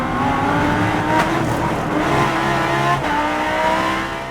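An IMSA race car at Laguna Seca powering through the turn 2 hairpin, its engine loud and close, revving up and down with gear changes and a slight tire edge.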